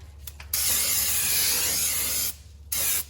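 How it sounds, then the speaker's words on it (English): Brake cleaner sprayed onto a brake rotor during a front brake job on a Nissan NV3500, heard as a steady, loud aerosol hiss lasting nearly two seconds, followed by a shorter burst after a brief pause. "take a little bit of brake cleaner"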